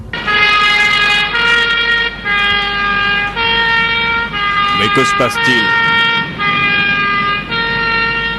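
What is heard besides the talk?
ambulance siren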